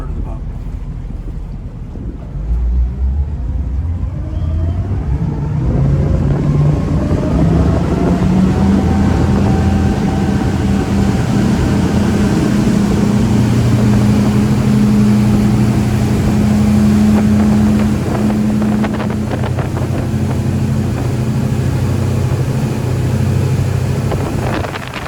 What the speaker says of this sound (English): I'm going to run the boat up now to maximum RPMs and bring it down to a comfortable cruising speed